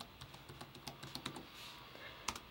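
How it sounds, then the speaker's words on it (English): Someone types a PIN on a Chromebook keyboard in a quick, uneven run of soft key clicks, faint and close, with no talking. "press enter and type the PIN again to confirm"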